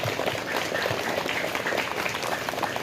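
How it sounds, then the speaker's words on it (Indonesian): A crowd applauds for class 4B at a primary school ceremony, with dense, continuous clapping from many hands at a steady level for a few seconds. "Kita kasih aplaus terlebih dahulu."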